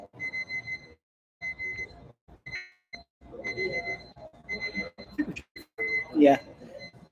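An electronic alarm going off during a talk show about comic conventions, sounding as repeated tonal beeps in bursts that alternate with speaking voices.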